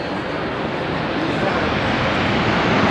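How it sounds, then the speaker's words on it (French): A passing airplane roars steadily overhead, a loud broadband rumble that stays constant and fills the whole moment without a break. "c'est Macron qui passe là en avion"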